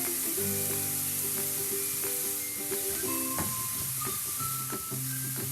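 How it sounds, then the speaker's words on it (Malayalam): Ginger, garlic and curry leaves sauté in a pan with a soft continuous sizzle, while steady tonal music runs over it and masks much of the frying. "ഇത്ര ഇട്ടിട്ട് ഇത് നന്നായിട്ടൊന്ന് വഴറ്റിയെടുക്കാം. ഇതിലോട്ട് കുറച്ച് കറിവേപ്പിലയും കൂടി ചേർത്ത് കൊടുക്കാം."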